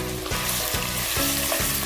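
Whole cloves, green cardamom and chillies fry in hot oil in a pot, giving a loud, close sizzle broken by regular scraping stir strokes about every half second.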